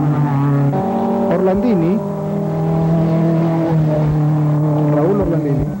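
A Datsun rally car in the 1979 Caminos del Inca rally in Peru, on the stage toward Huancayo, drives past with a droning engine note that rises and falls, under continuous commentary from a man.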